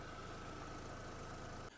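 The 1.6 MPI engine of a 2008 Volkswagen Golf Plus idles quietly and evenly, a steady low hum close by, with no voices, cutting off abruptly at the very end.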